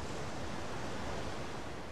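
Steady, broad sea waves in The Solus Project video game form a constant even wash of surf with no breaks or talking.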